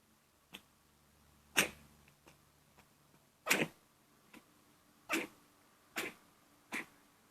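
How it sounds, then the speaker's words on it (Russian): A cat with a bad runny nose sneezes repeatedly indoors, about six sharp, close bursts spaced a second or so apart, with quiet pauses between them. "Кошек чихает, у него насморк."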